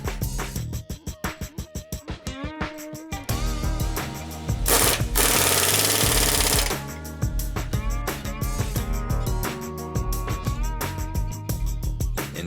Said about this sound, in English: Now install and tighten the lower shock mount.